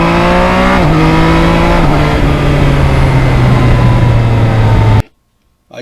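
Yamaha MT-09 motorcycle accelerating hard with quick-shifter upshifts, loud and close: a steady engine roar with abrupt pitch drops at each clean shift, then cutting off suddenly near the end.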